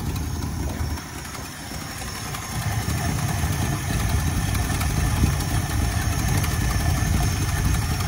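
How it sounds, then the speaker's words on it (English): A 1968 Ford Galaxie 500 engine with a cheap carburetor idles steadily at close range, a continuous low rumble with an even, slightly uneven chug and no voices. "that little cheap carburetor, just sitting here idling. Sounds good too"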